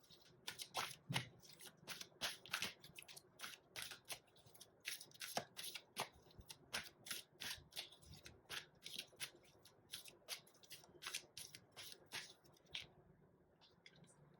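Tarot cards being shuffled and handled at close range: quick repeated riffling and slapping card sounds in an uneven rhythm, soft and intimate, with no talking.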